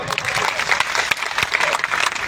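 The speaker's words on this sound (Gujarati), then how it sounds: "એક વખત જોરદાર તાળીઓ બાપા માટે" A crowd at a birthday gathering in Banaskantha claps loudly and steadily for a couple of seconds, a dense burst of applause with no break.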